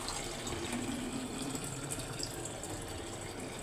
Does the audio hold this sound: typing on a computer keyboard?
no